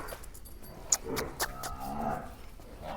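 A Murrah buffalo on a Maharashtra farm gives a low, drawn-out moo that rises partway through, heard over steady outdoor background noise with a few sharp knocks nearby.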